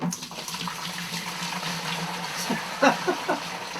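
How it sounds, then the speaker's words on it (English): Water poured into a barrel for cider making, a continuous splashing and gurgling fill with a few sloshing bursts toward the end. "put some water in it"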